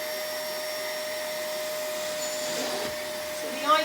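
A household hoover vacuum cleaner runs steadily and fairly loud throughout, with a constant motor whine and airflow hiss that swells briefly near the end as it moves.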